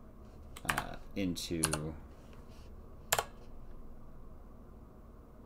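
Fingers type on a computer keyboard in a few quick bursts of clicks, with one separate click later. The typing is quiet and close, with someone talking over it.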